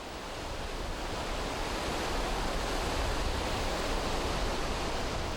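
Indian Ocean surf with high waves makes a steady, broad roar of breaking water, loud and unbroken, swelling slightly as it goes, with no voices over it.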